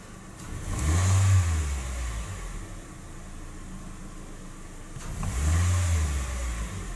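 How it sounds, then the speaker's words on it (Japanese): A car engine with delayed throttle response revs up twice as the accelerator is pressed, each rise swelling loud and close, then settling back to a steady idle between them. "今アクセル踏みますよ。"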